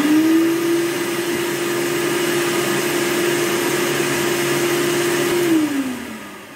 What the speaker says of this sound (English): let's see if it can power up my shop vac at the same time